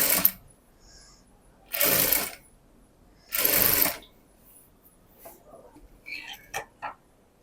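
Two short, loud bursts from a sewing machine stitching a blouse, followed by faint clicks and small handling noises in a quiet room.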